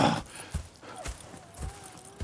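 Horse hooves clip-clop at a steady walking rhythm in the Red Dead Redemption 2 video game, with several distinct hoof strikes over faint background sounds.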